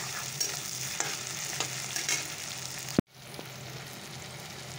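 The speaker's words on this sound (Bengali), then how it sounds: "পেঁয়াজ টমেটোটা পুরো ভাজা হয়ে গেছে" Onion and tomato frying in a pan with a tempering of dried red chilli and black cumin, a loud, steady sizzle broken by spatula scrapes, with one abrupt cut midway before the frying resumes.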